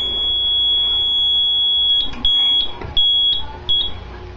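A fire alarm panel set off by a smoke detector sounds a loud, steady high electronic tone that turns into a rapid pulsing beep pattern, close and with no talking.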